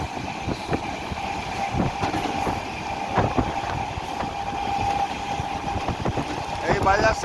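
A local train in Berhampore, Murshidabad, passes as a steady rolling rumble with rail clatter and wheel clicks that continue throughout, joined by a brief high squeal near the end.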